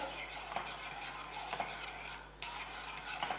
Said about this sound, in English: Keep on whisking.